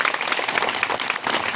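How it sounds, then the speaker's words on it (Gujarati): Applause honouring teachers at a school Republic Day celebration, a dense, even wash of many hands clapping together for over a second. "આપણે જોરદાર તાળીઓથી વધાવી લઈએ આપણા શિક્ષકોને સન્માનમાં"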